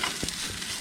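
Peppers and onions sauteing in a non-stick pan over a campfire at a snowy winter camp, a steady soft sizzle with a brief stirring scrape, heard close and fairly quiet.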